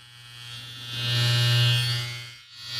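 A Suprent Black Obsidian hair trimmer, zero-gapped, runs with a steady, smooth electric buzz and a low motor hum, swelling slightly louder midway and then easing, with no talking.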